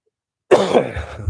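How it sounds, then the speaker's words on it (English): A single close, harsh cough bursts out after a moment of silence, then trails off into a brief rough rasp. "Oh, I got a cough again."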